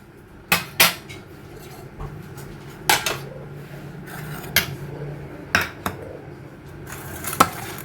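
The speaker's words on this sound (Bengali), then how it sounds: "আগে সব ঢাকাগুলোকে খুলি" Lids lifted off several home-cooked pots one after another, sharp metallic clanks and clatters at irregular intervals, close by, with quiet kitchen handling between them.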